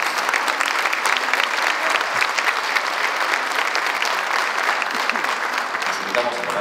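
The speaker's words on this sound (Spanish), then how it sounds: "¡Fuertes los aplausos!" Loud, dense applause from the crowd at a Teachers' Day ceremony honouring a teacher who works at a community soup kitchen, continuous clapping throughout with some voices mixed in underneath.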